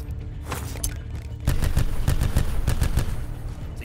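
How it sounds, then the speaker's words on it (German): A Nine-Bang stun grenade goes off in the video game Black Ops 4, giving a run of sharp, loud, rapid bangs that follow one another after a quieter start, set over steady game background noise. "Und jetzt machen wir einen Knaller auf Stufe 3 scharf."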